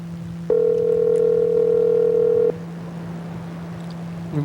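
A steady telephone calling tone rings out loud and clear for about two seconds, then cuts off, leaving a low background hum.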